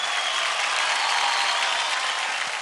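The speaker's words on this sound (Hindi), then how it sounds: "जोरदार तालियां हो जाए राजस्मिता के लिए।" Applause fills a televised Indian dance competition stage after a contestant's performance, a steady, dense wash of clapping from the studio audience that holds evenly throughout without breaks.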